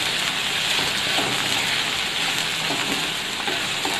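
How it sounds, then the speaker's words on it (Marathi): Chopped onion sautés in a hot pan for a rustic dry sandge curry, a close, continuous crackling sizzle with small pops, steady and fairly loud throughout. "कांदा परतून घेऊया आपण चांगला"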